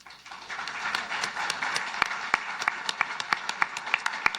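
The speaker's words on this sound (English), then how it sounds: "I was clapping for the Premier there" Hands clapping at a Prime Minister and Premier pipeline announcement between Smith and Carney, a steady sharp patter of applause that grows crisper and more rhythmic toward the end, with no talking.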